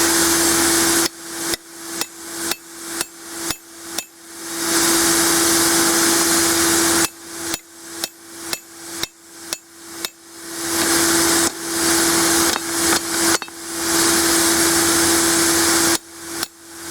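A hammer strikes a cut through hot forged steel while making a feasting spoon, delivered in three quick bursts of about six to eight sharp, ringing blows with a steady anvil hum between them.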